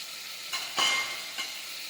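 Chutney drops into a hot pan for a potato curry and fries with a soft, faint sizzle, marked by two or three brief stirring scrapes; close but quiet.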